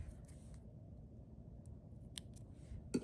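Scissors snip through foam tape backing paper with a few quick, crisp cuts, the last one sharpest, close up over a low room hum.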